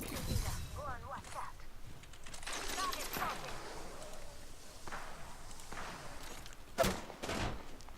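Gunfire in the battle-royale shooter Apex Legends: scattered bursts of shots and sharp cracks at moderate distance, mixed with footsteps, under a player's talk.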